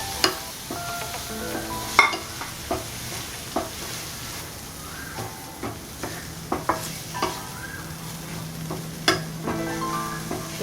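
Prawns sautéing in a pan for prawn biryani, a soft steady sizzle broken by sharp clinks and scrapes of a spoon stirring against the metal, close up and without speech.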